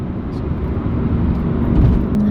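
Deep exhaust rumble from a BMW E92 M3 fitted with a Megan exhaust, a steady low-pitched engine note that rises a little toward the end, with talking over it.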